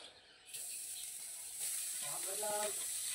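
Grated coconut drops into a hot kadai and begins a soft, steady sizzle that grows a little louder and stays constant, with faint stirring scrapes near the end.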